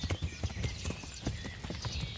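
A ridden horse in the video game Kingdom Come: Deliverance clip-clops at a steady gait, its hooves thudding in even rhythmic beats, fairly close over faint background ambience.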